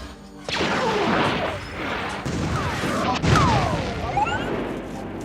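A dense Star Wars battle mix of spaceship engine whooshes, booming explosions and rapid blaster shots, layered continuously and loud, with pitched sweeps streaking through a heavy rumbling bed.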